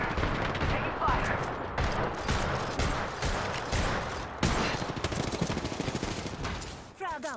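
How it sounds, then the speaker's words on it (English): Rapid bursts of gunfire in the video game Apex Legends, loud and close, with overlapping volleys and machine-gun rattles running almost continuously before easing off near the end. "Listen up, I'm getting shot at."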